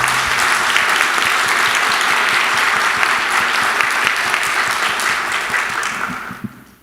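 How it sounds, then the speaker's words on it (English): Sustained applause from a conference session audience fills the room, a dense, steady clapping that holds for about six seconds before fading out. "Let's give him another round of applause."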